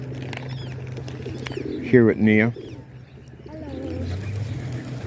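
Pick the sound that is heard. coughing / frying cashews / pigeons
pigeons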